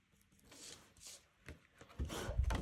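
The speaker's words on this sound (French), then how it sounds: "J'ai envie de gratter une autre carte." A scratch card is scratched off in quiet, uneven bursts of dry rubbing and scraping, very faint and close, with louder gritty strokes building toward the end and no talking.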